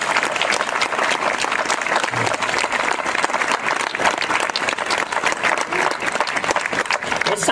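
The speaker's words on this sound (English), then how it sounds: "let's give him a round of applause" A crowd applauds a sculptor at the unveiling ceremony of a commemorative sculpture, with steady, full clapping throughout and faint voices mixed in.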